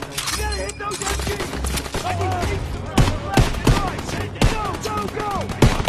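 Machine gun fire pours from a barn in the WWII shooter Call of Duty WWII: sharp, loud bursts of shots over game music, while a voice shouts briefly.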